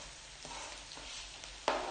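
Garlic fries in hot sesame oil in a pan as the base for arroz caldo, a steady soft sizzle with light stirring and a sharper crackle near the end.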